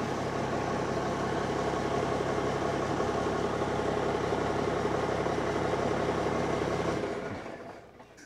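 A replacement engine running steadily, a dense, even mechanical roar at moderate distance for about seven seconds before it winds down and cuts off.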